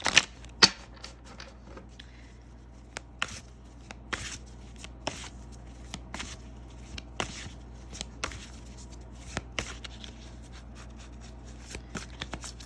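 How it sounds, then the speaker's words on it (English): A deck of tarot cards is shuffled by hand, with soft riffling and scattered crisp clicks at an irregular pace, quiet and close against a low background hum. "give a nice, good, clear shuffle"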